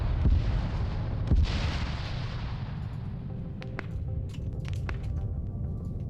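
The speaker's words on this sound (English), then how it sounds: "I think the tank is also doing some long-range shots here" Long-range tank cannon shots in an Arma 3 airfield assault battle, with a heavy boom early on followed by further distant thuds and pops over a constant rumbling battlefield background.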